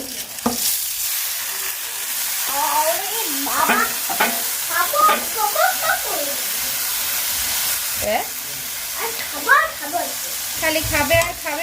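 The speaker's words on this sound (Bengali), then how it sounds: "পেঁয়াজটা আগে ভেজে নিলাম সাথে একটু কাঁচামরিচও দিয়ে দিচ্ছি" Onion and green chilies fry in a pan while being stirred, a steady close sizzle with scraping stir strokes and clatter, and a voice speaking briefly in the background at times.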